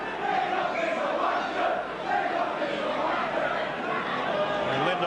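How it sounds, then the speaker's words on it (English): A rugby league stadium crowd at a 1986 Kangaroos versus St Helens match, chanting together in unison at the referee, a dense continuous roar of many voices that stays loud and steady throughout. "The referee getting a bit of a workout now from the crowd there in unison chanting, Lindop is a wonder."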